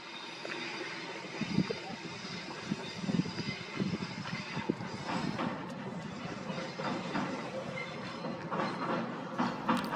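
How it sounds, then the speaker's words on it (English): A train crosses a railway bridge over a Norfolk river at Reedham, with a rumbling roll and rhythmic clickety-clack from the wheels over about ten seconds, heard from a moderate distance. "Once this train has gone over the bridge,"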